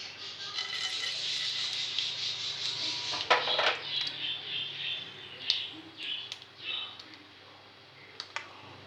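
Mustard seeds and urad dal sputter in hot oil in a pan, giving a steady crackle with sharper pops scattered through it that thin out toward the end, close and fairly quiet.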